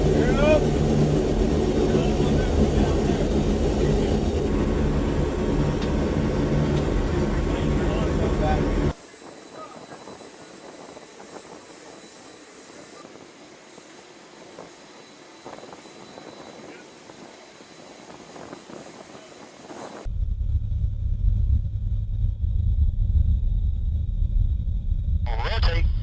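Engines of a USAF transport aircraft, 75th Expeditionary Airlift Squadron, on a takeoff roll in the Horn of Africa: a loud, steady roar inside the cockpit that drops to a quieter hum partway through, then swells back to full power, with crew voices over it.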